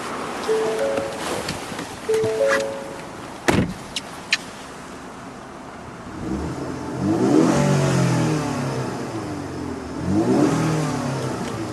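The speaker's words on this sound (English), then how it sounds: "And it's a very free revving engine in this vehicle too." A 2014 Ford Fusion Titanium with a 4-cylinder Ecoboost engine revs up in two loud swelling bursts after some clicks and a door-like thump, each rise climbing and then falling back to a steady idle.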